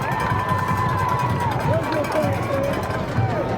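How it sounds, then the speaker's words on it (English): Home crowd at a Metter Tigers high school football game against Dublin cheers and roars steadily throughout, a dense continuous wall of crowd noise with a few shouts rising above it. "Metter crowd getting into it."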